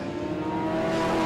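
Race cars, Porsches among them, accelerate hard off the start at Winton raceway, a continuous engine roar rising slightly in pitch and heard from a distance over a brief moment.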